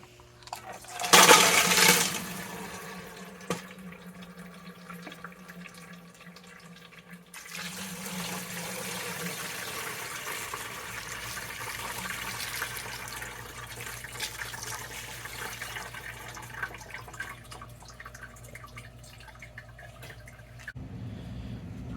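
Watery slurry poured out of a rock tumbler barrel after the third week of tumbling, a loud splashing gush near the start, then a long stretch of softer trickling and rattling liquid.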